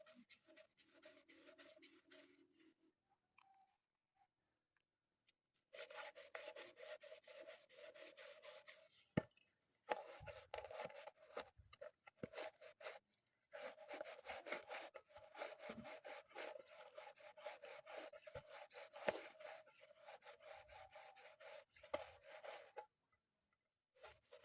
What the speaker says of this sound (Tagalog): Yan, ulit-ulitin lang natin ikuskus ito.